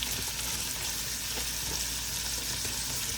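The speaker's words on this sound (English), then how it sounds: "what I'm doing here is just searing in that flavor, locking it in and pulling it up to the surface all at the same time" Chicken pieces sear in a hot pan, giving a dense, continuous sizzle and crackle of frying fat, close and steady throughout with no voices.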